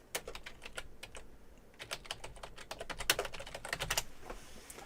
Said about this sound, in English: I can't type if your head's on the keyboard.